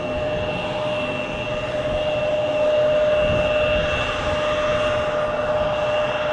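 A CRJ regional jet rolls along the runway at Manchester Airport, its engines giving a steady, loud roar with a sustained whine, continuous and fairly close throughout.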